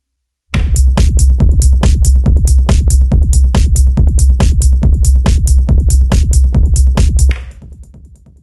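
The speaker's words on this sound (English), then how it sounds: "I already prepared a simple pattern that will be our rhythmic bass for this tutorial" An acid techno bass pattern programmed on an Elektron Analog Rytm drum machine, its rumbling kick layered with a synth, pulses in a fast, tight, driving sixteenth-note rhythm, loud and continuous for about seven seconds before cutting off into a short tail.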